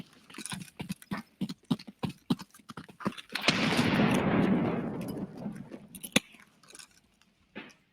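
MP7 gunfire in an arena shooter game, rapid bursts of sharp cracking shots, then a sustained rushing blast-like wash, followed by more scattered shots.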